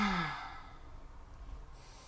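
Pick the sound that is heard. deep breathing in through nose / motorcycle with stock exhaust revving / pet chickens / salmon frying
deep breathing in through nose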